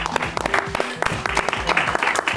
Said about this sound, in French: Joyce, on applaudit Joyce, hein?